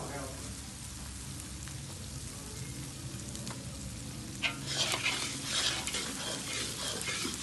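Khoya pinni mixture stirred and scraped in a pan, a steady low frying crackle with rough scraping strokes that grows louder and brighter partway through.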